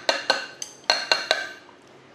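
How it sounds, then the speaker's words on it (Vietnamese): Rice for egg fried rice is stirred in a bowl with a utensil, giving six or seven sharp, ringing clinks in an uneven rhythm, close and clear, with no talking. "Mục đích khuấy này là cho hạt cơm nó rời ra quý vị ạ."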